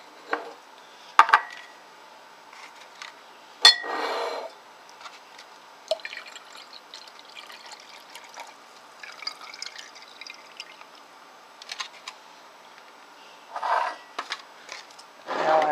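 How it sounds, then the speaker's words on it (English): Oxalic acid solution poured from smaller containers into a larger glass beaker, with sporadic drips, splashes and light glass clinks spread across the stretch, fairly quiet and close with no talk. "Now I'm going to decant the solutions into a larger beaker so I can neutralize the oxalic acid."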